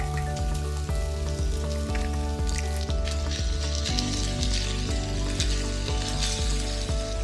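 A single egg fries in a pan with rice, onions and garlic for short rib fried rice, sizzling and crackling steadily up close with a low rhythmic thumping beneath throughout.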